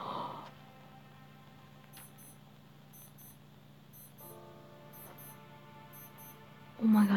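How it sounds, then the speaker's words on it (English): Faint electronic alarm beeping in short repeated pairs at a steady rhythm, low under a steady hum, with a louder burst near the end. "The alarm just went off."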